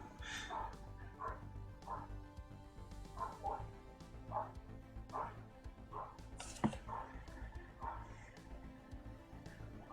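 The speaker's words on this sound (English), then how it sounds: "Wouldn't be one of my streams without the next door neighbor's dog getting involved" Distant barking from the next-door neighbour's dog repeats in a steady series of yips and woofs for several seconds, faint and far off, with a sharper knock partway through.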